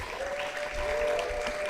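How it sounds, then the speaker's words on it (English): Sustained audience applause for presenters at a college summit, a steady dense wash of clapping filling the whole stretch at moderate level, with a faint tonal whine running through it. "Let's give another round of applause to our presenters."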